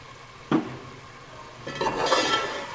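Spices, red chilli powder, salt and curry leaves stirred and roasted in a pot for mixed vegetable pulao: a sharp scrape near the start, then a louder stretch of sizzling and stirring toward the end.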